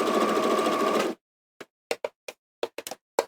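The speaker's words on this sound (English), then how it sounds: "and just carry on sewing all the way around" A sewing machine runs continuously while stitching around a fabric bag with handles, then stops, followed by a series of sharp, irregular knocks and clicks.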